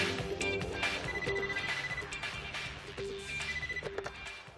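A telephone rings in the Fujiwara Tofu shop in an Initial D film, an old-style bell ringing in continuous rapid trills, fairly loud and close, with no voices over it.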